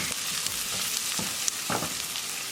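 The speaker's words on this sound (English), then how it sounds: "Cooking onion for 2 minutes." Chopped onion frying in hot oil in a pan, a steady bright sizzle with soft scraping stir strokes breaking through now and then, close and even throughout.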